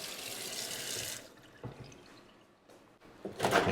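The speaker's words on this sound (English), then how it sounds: "We'll run hot and cold water at the kitchen sink." Hot and cold water running from a kitchen sink faucet in a house in Oliva, Spain, a steady close splashing stream that cuts off after about a second, with faint drips, then starts again near the end.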